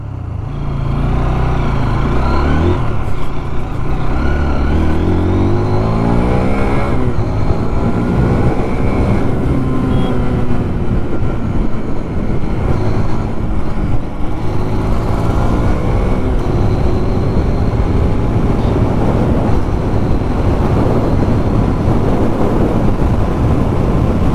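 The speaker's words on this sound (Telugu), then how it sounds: "ఎగ్జాస్ట్ సౌండ్ వినండి" A 2024 Hero Xtreme 160R 4V 160cc motorcycle engine hums steadily with exhaust noise while riding, the pitch rising and falling as it speeds up and shifts, loud throughout with no talking.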